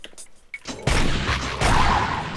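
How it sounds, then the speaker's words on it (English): Repeater cannon firing in a Doom mod shooter, a loud, rapid, continuous stream of heavy booming shots after a brief quieter lead-in. "Power nailgun, no, this is a repeater cannon."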